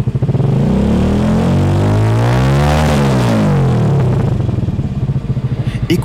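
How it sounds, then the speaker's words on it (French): The engine of a homemade sports car, built entirely by hand from scratch, roars loud and close, its pitch sweeping up and then back down through a revving cycle, with no voices. "Écoutez le son du moteur"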